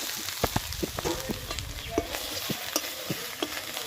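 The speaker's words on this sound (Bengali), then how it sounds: "এবার ওর মধ্যে দিয়ে দেবো জিরে গুঁড়ো, ভেজে রাখা সয়াবিনটা দিয়ে দেবো।" Soybean chunks being stirred in a pan with ginger, garlic and cumin powder: frequent scraping spoon strokes and clicks over a steady, fairly loud frying sizzle, no voices.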